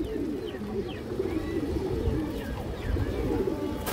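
Steady low cooing comes from a ring-eyed female pigeon of an old breed, close and continuous over four seconds, with faint chirps of other birds above and no speech.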